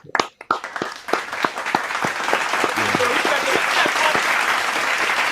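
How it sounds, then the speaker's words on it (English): A few scattered sharp claps quickly swell into sustained crowd applause, steady and fairly loud for several seconds, with a voice faintly underneath, during a post-game show after a New York Jets versus Dallas Cowboys game. "clap it up for Boss"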